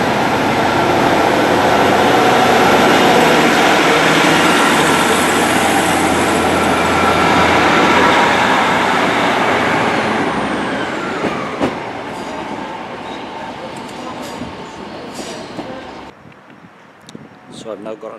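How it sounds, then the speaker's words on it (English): A train rumbles along loudly and steadily, then slows and fades, with some faint clicks and a quieter stretch at the end. "That noise, the train that I was on."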